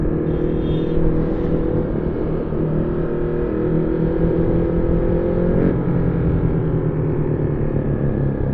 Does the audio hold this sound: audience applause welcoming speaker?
no